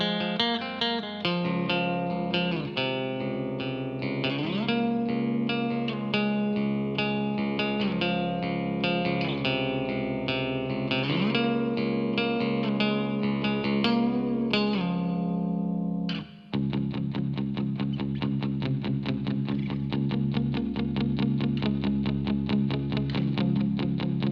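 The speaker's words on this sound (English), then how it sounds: "we'll listen to the reverb sound and the guitar dirty sound" A Fender Bass VI played through a Tone Master Pro with distortion and reverb, sustained chords and melodic runs that ring out, brief cut, then a long reverberant held chord.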